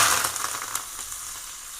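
Curry leaves and urad dal crackle and sizzle in hot oil, a dense, steady hiss with a few sharper pops, fairly loud and close, with no voices.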